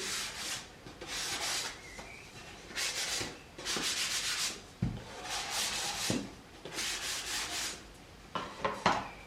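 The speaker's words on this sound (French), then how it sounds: "Si vous avez bien poncé, il n'y aura plus de veines du bois qui vont sortir pour se planter dans vos doigts" Hand sanding of a slight bevel on the edge of a wooden support, heard as repeated rhythmic back-and-forth rasping strokes in short bursts, close and fairly loud with brief pauses between passes.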